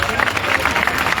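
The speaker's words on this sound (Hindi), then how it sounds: "जरा जोरदार मंच के लिए तालियां बजा दो।" A crowd at a Congress party political rally in Chhatarpur claps in a dense, continuous burst, loud and close, with voices mixed into the noise.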